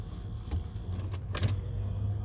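A car idles and rolls in nearby with a low engine rumble, with a few brief mechanical clicks and whirs on top, and no voices.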